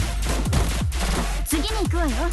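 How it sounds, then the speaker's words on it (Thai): Rapid gunfire from the Blue Archive video game rattles continuously in dense bursts, heard under a person talking steadily throughout. "แล้ววาคาโมก็ยิงไปเลย"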